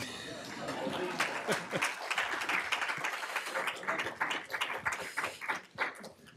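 A conference audience at a European policy seminar claps for a center director as he is introduced. The scattered clapping builds into moderate applause that stays fairly faint, then thins into separate claps near the end, with a voice mixed in.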